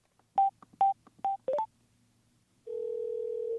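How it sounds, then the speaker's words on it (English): Redial tones from an HJC Spirit motorcycle helmet headset: a quick series of short, clear beeps in an uneven rhythm, then a steady, sustained tone. "you can redial your last number by tapping the media button 3 times"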